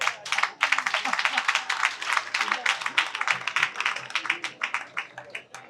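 An audience at a political rally with Simone Ehivet Gbagbo in Montezo bursts into sustained applause, dense rapid clapping from many hands, loud and close throughout with uneven swells, no voices over it.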